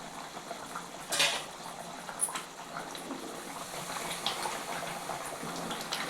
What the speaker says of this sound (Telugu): మూత తీసి చూసుకుందాం